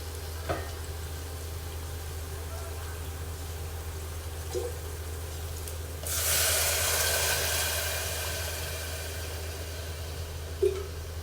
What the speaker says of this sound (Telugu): ఈ కప్తో టూ టూ గ్లాసెస్ వాటర్ పోస్తున్నాను టూ కప్స్ వాటర్ పోస్తున్నాను